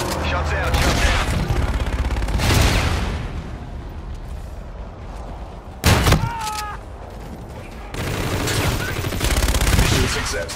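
Gunfire in Call of Duty: Infinite Warfare, with heavy bursts of rapid shots and booming impacts that come in waves, a sharp loud blast near the middle, and then renewed firing, mixed with game sound effects.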